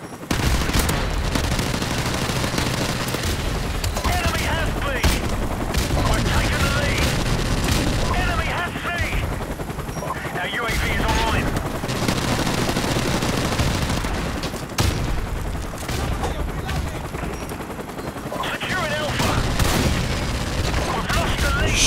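Rapid bursts of gunfire from the Call of Duty 4 Remastered video game, dense and loud throughout with booming shots, while players talk over the shooting.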